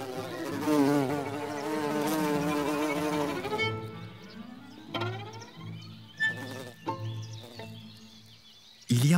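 Wild bees produce a steady, tonal buzz for several seconds, then a series of short, separate buzzes that come and go close to the microphone.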